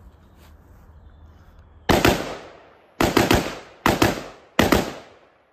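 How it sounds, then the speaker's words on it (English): AR pistol shots fired in bump-fire bursts: four loud, close groups of rapid cracks, each a quick cluster of two to four reports with a short decay, separated by brief pauses after a quiet start. "I'm gonna try to bump fire that hoe one more time"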